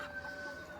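Domestic black chickens cluck faintly and continuously at a small farm, with a soft steady hen chatter and no talk.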